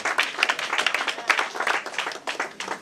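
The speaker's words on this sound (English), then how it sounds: "give them a big applause." Church congregation clapping for visiting elders, a brief burst of rapid, fairly close hand claps with no talk over it.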